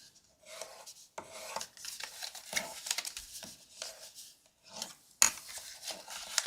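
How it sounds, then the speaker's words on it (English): Folded paper craft piece being burnished, giving close, uneven rubbing and scraping strokes in irregular bursts with short gaps between them. "now I'm going to burnish it"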